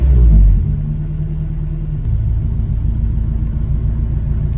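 A Honda car engine with its alternator idles steadily, a deep continuous low rumble after a brief louder burst at the start, close and alone with no talk.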